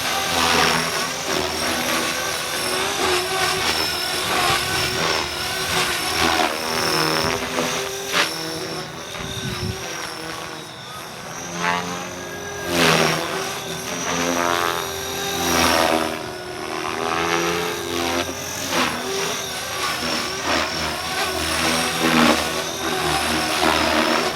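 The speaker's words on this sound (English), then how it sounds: "allowing the helicopter to transition very well and do fast-forward flight" A Blade Fusion 360 Smart RC helicopter on a 3-cell setup rushes past in fast forward flight, its rotor and motor whine loud and close, swelling and fading as it passes repeatedly.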